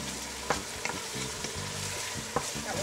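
Garlic frying in oil for Ethiopian-style greens, with a steady close sizzle and a few sharp scraping stirs of a utensil against the pan, no talking.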